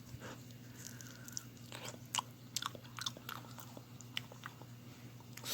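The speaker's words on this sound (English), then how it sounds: "Okay, I'm just gonna eat one." Quiet, close chewing and biting of soft, chewy canned fruit from 1962, with scattered small wet clicks over a steady low hum and no talking.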